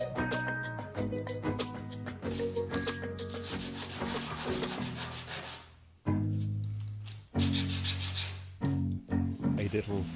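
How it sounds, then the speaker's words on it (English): Light hand sanding of a small wooden cabinet part, a steady rasping rub in repeated back-and-forth strokes, close up, with a brief pause midway before resuming. "A little light sanding"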